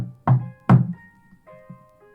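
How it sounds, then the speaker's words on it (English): Two firm knocks on the door of a tiny house, close and distinct, followed by a few fainter, lighter taps, with a tonal, ringing background underneath. "and I knocked"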